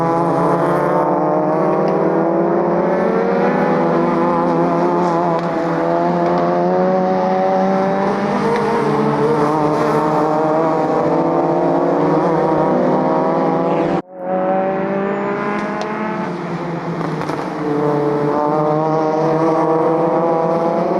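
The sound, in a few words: race cars (Citroën Saxos, VW Golfs) driving on track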